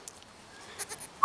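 Dwarf goats give a few short, faint bleats close by, scattered over a quiet moment and ending in a sharper cry.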